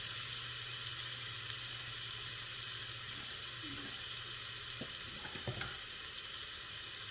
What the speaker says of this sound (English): I'm going to just saute this for a few minutes until they're translucent